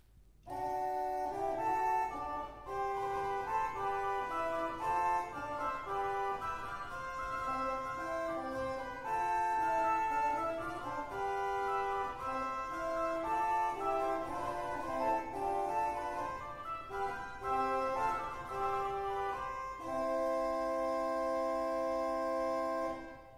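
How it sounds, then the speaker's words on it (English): Vox humana reed stop sounding alone on a 1783 Schiörlin pipe organ in Jonsered Church, playing a steady, sustained passage of held chords and moving notes with a nasal, buzzy tone in a resonant church, no voices. "Vox humana, which actually means human voice, by itself it sounds like this."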